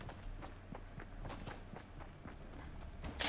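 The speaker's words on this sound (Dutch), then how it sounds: "Ik hoorde daar iemand lopen." Quick footsteps of another player running in Fortnite, a steady rhythmic patter of fairly faint steps over a low game-ambience hum, with no voices.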